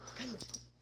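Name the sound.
dogs barking in the background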